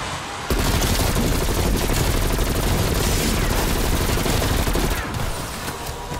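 Dense, sustained gunfire from a Call of Duty Cold War Zombies split-screen session, with rapid overlapping shots and bursts running continuously and loudly after a brief quiet start, easing slightly near the end.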